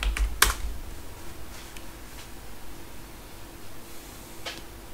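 Password typed on a computer keyboard while installing software on OpenSUSE Leap Linux: a burst of close keystrokes at the start, then sparse, softer key taps over a steady background hiss, with no voices.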